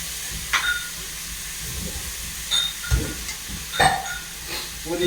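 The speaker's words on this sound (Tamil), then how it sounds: "நல்லா வதங்கிட்டு இருக்கு" Ingredients for a chicken dish sauté in a pan, giving a steady, soft sizzle and hiss with occasional small pops and clinks, close and without talking.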